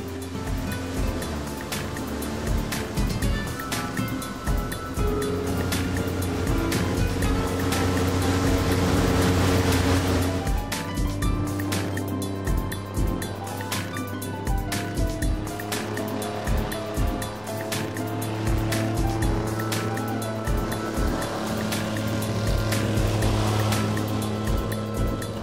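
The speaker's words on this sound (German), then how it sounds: "Das Naturreservat kann nur mit speziellen Propellerbooten befahren werden." A propeller-driven airboat pushes through shallow mangrove waterways in a Florida nature reserve, a loud steady engine and propeller drone over rushing water, with rattling and splashing throughout.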